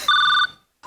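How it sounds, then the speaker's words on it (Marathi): A telephone ringing tone on an outgoing call: one short, bright electronic ring pulse, then brief silence before the next ring begins. "मॅडम रिंग जाते."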